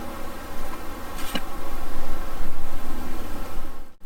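Honey bees hum inside a hive in a continuous, dense buzz close by, the swarm drone steady and fairly loud throughout.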